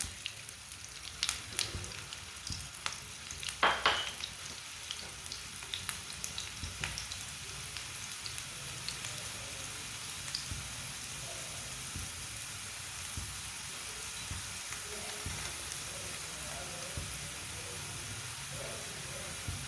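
Aloo paratha cooks in oil on a pan with a faint, steady sizzle and scattered crackles and pops, quiet and continuous with no voices.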